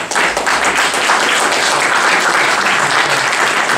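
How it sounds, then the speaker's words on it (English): An audience at a public meeting bursting into a round of applause, loud and close, dense clapping sustained evenly for a few seconds with no talking. "How about a round of applause for that?"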